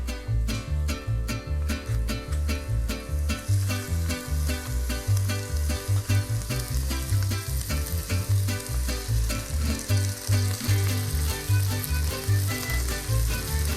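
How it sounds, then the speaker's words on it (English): Ground beef browns with onions in a pot for pumpkin chili, sizzling and frying loudly and close, with rhythmic stirring scrapes pulsing throughout and no talking. "I'm gonna put the ground beef in."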